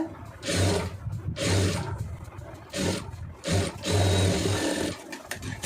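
A sewing machine stitches the lining of a blouse in repeated bursts of motor whir, stopping and starting several times at close range with no talking.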